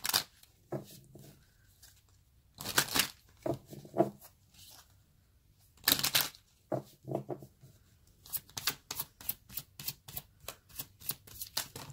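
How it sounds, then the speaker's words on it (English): Tarot cards are shuffled by hand in a quiet room, with scattered riffling bursts and pauses, then a quick run of rhythmic cuts near the end, close and crisp. "it's so hard for me to shuffle with the tripod there"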